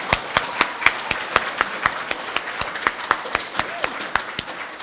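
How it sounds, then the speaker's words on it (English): A small group claps at a school citizen-of-the-month ceremony, with sparse, distinct handclaps spaced at a steady rhythm over a quiet room, each crisp clap standing out at moderate loudness. "let's have one big round of applause for all of your hard work"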